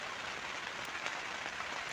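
Steady, dense rain pouring down in Torrevieja, a constant hiss of drops hitting a surface with a few slightly louder splashes, no voices.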